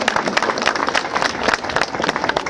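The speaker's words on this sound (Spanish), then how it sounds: "Fuertes palmas al señor Zorrilla" Crowd applause at a large funeral farewell for a revered master, dense steady clapping from many hands at close to mid distance, sustained throughout with a few faint voices mixed in.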